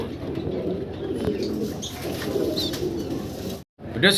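A pair of dancing high flyer pigeons coo softly and continuously at close range, with someone talking over them and a brief dropout near the end.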